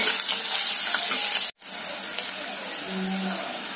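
Onions frying in a pan for paneer bhurji, a steady hissing sizzle that cuts out briefly midway and then resumes, with a few light clinks.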